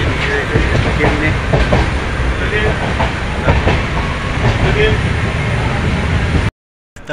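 Steady loud rumble and rattling of a crowded moving passenger train heard from inside a carriage, with people talking under the noise, cutting to near silence at the end.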